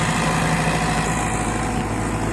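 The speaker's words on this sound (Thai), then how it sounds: "เป็นเครื่องยนต์สี่สูบครับผม ของโคมาสุเองครับผม" A Komatsu PC60 excavator's four-cylinder diesel engine idles close by, a steady, rough low rumble with constant mechanical chatter and no voices.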